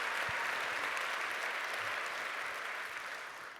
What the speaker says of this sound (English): Can we give her one more round of applause so she can hear that backstage?